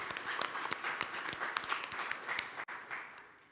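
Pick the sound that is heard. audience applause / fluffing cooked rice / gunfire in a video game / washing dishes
audience applause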